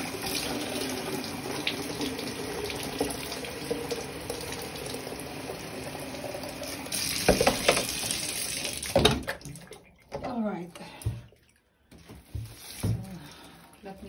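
Tap water runs steadily for several seconds, filling and splashing to water an indoor plant, then stops and gives way to handling clatter and a few brief knocks.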